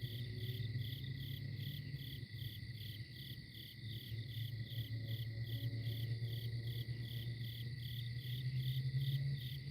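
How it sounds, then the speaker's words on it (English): Crickets chirp steadily at night near a tent, a dense pulsing trill that holds loud and unbroken, with a low hum running beneath it. "enjoying the sounds of the crickets"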